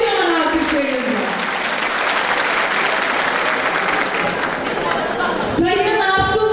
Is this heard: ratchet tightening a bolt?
no